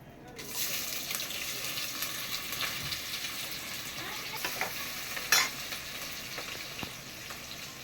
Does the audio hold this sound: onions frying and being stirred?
yes